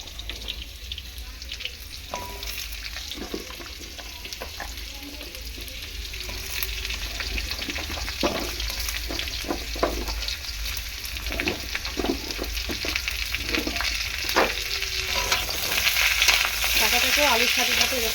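Drumsticks and potatoes frying in oil for a summer vegetable dish, a steady sizzle that builds louder over time, punctuated by frequent clatters of stirring and faint water-like splashes, without talk.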